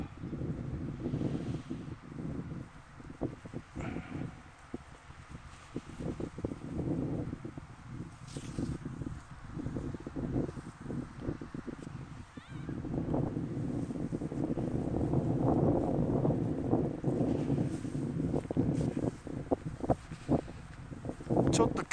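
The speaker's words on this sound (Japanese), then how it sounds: "ちょっと今日は風が強いから元気に泳いでいます。" Strong gusty wind buffeting carp streamers flying over a park, a steady rushing roar with rustling flaps that swells louder in the second half, while people talk faintly underneath.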